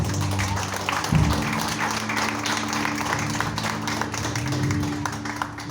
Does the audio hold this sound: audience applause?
yes